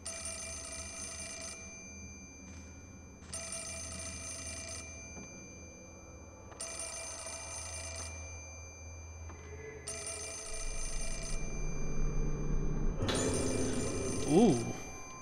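A telephone rings inside the Fatal Frame: Mask of the Lunar Eclipse video game, four evenly spaced bursts of bright electronic ringing over low ambient drone, with a fifth ring overlapped by a rising eerie tone near the end.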